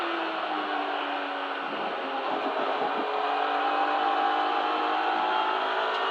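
A BMW race car engine at Donington Park, running hot, holds a steady, high-revving drone near its rev limiter, heard as a continuous, loud in-car whine with slight pitch wavers.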